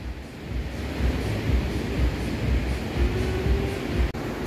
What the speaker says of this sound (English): Da Nang Beach.